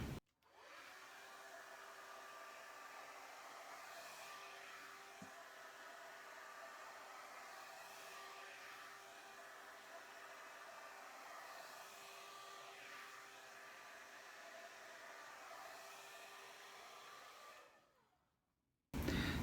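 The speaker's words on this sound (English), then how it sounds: "So I'll get out my blow dryer and I'm going to straighten and smooth using this" A blow dryer roars steadily while it straightens and smooths hair with an Olivia Garden brush, a close, loud, even whir lasting most of the time before it switches off near the end.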